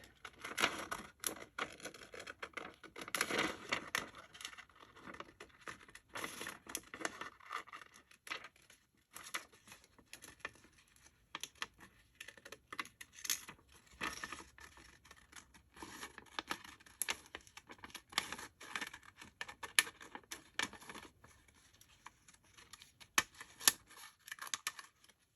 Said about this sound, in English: we're going to just slightly fussy cut that out